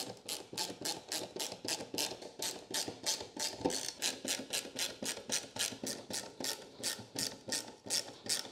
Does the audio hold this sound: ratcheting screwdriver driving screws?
yes